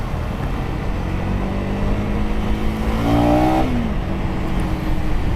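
KTM Duke 250 motorcycle engine heard while riding in traffic at sunset, a loud, close, steady engine drone that rises in pitch as it revs up partway through, then eases back.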